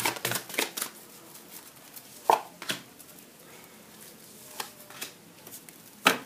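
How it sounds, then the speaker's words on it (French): Tarot cards being shuffled and laid out, heard as scattered soft taps and riffling flicks, a cluster at the start and then isolated card slaps at irregular intervals in a quiet room. "Je vais te couvrir ces cartes."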